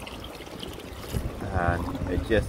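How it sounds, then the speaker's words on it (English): Rainwater trickling through the clogged soft-top drain channel of a Porsche Cabriolet, a close gurgling flow under a man's speech, swelling toward the end. "you'll see the water going through here"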